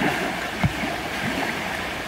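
The Psebaika river flows steadily, its broadband rushing wash filling the short stretch with a soft, even murmur and one faint splash-like knock partway through.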